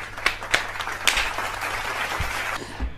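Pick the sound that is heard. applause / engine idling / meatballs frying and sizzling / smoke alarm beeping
applause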